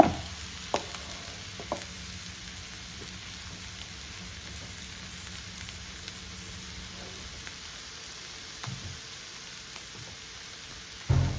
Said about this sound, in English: we're just gonna cook, watching it sizzle and turn brown